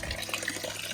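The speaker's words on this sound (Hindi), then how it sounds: "और एक बोतल तो मैंने भर ली, जो मैंने रख ली है, दूसरी वाली भर रहा हूँ मैं।" A water bottle fills at a natural mountain spring in Himachal, a steady close gurgling trickle of flowing water with no voices.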